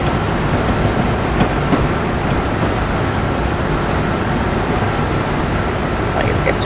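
A train rolls past in a train-driving video game, a loud continuous rumble with rail clatter and occasional metallic clicks, steady throughout with no speech.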